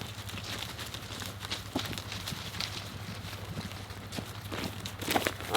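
Cattle hooves clop and shuffle irregularly on the ground as a herd is walked along on a homestead, many overlapping steps at moderate distance over a low steady hum.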